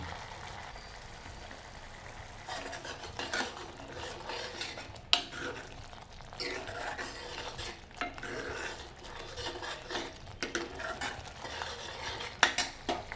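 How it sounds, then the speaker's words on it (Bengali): Masala spices sautéed in a pan for a dal and spinach dish: a spoon repeatedly scrapes and clinks against the pan over a soft sizzle, in irregular close strokes. "মশলাটাকে আমাকে ভালো করে কষাতে হবে।"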